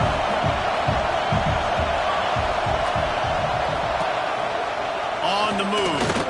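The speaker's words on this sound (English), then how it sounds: "Listen to this crowd just shaking the girders of this place" Dense stadium crowd roars steadily throughout an NCAA 26 college football game at Nebraska, a loud continuous wash of noise with thumping low rumbles, while a commentator's voice runs underneath.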